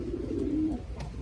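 A pigeon gives a single low, drawn-out coo close by against a steady background hum.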